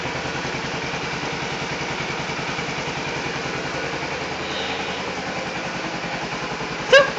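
A 250 motorcycle engine idles steadily and close by, a low, even rumble with regular pulsing throughout and a brief click near the end.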